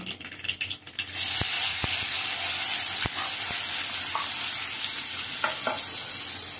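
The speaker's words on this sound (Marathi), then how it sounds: "ह्याच्यात टाकणार आहे मी वाटण" Ground coconut paste added to a pan of cooking tomato saar, setting off a loud, steady sizzle and bubbling after a few brief clatters, with occasional small spoon taps.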